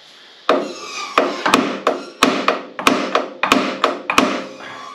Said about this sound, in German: Und dann mal ein bisschen einen kleinen Schlag auf die Schrauben geben. Damit löst man sehr oft diese Flanschplatte.